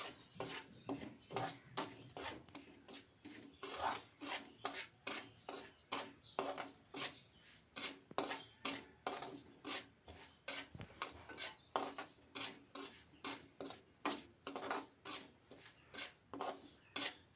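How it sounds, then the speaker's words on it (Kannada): Semolina (rava) roasting in a little oil in a pan for avarekalu upma, stirred steadily with a spoon, giving a continuous rhythmic scraping and rubbing with regular strokes, close and fairly loud, no talking. "ಕೈ ಆಡಿಸ್ತಾನೆ ಇರಬೇಕು ಇಲ್ಲಾಂದರೆ ರವೆ ಸೀದೋಗುತ್ತೆ"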